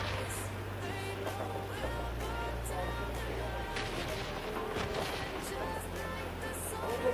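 Gunfire in the battle-royale game PUBG, distant bursts of shots crackling through a steady low engine-like hum, faint and intermittent rather than close.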